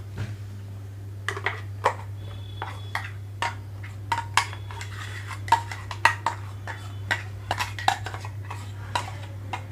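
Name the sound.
transferring peanut chutney into a bowl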